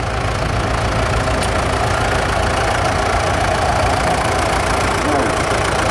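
A vintage tractor engine fitted with a side pulley idles steadily in the arena during a spring fair's morning parade, a loud, close, continuous chugging rumble that holds constant for the whole stretch.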